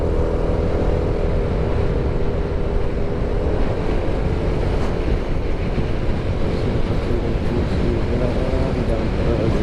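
Honda Vario 160 scooter engine humming steadily while riding at speed, a constant dense drone mixed with heavy wind rush over the microphone, no pauses throughout.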